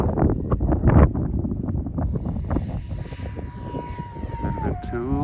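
A 3D-printed F-117 twin 40mm EDF radio-controlled jet comes in to land in gusty wind, its ducted fans whining steadily with a falling pitch near the end, alongside heavy wind buffeting on the microphone.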